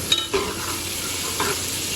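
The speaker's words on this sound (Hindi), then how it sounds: "ये हमारे चावलों का तड़का बन रहा है" Rice tempering in hot oil in a home kitchen, frying until golden brown: a steady, close sizzle with a faint hiss throughout and a few soft scrapes of stirring.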